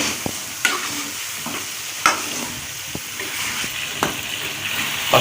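Ginger-garlic paste is stirred into cabbage and chicken frying in a pan, with a constant close sizzle broken by the scrape and clack of the spoon every second or so.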